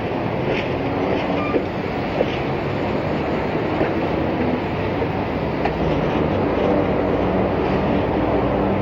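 A passenger train on Mexico's Pacifico Railroad rolls steadily, a dense continuous rumble of wheels and carriages with occasional faint clicks of rail joints, constant and fairly close.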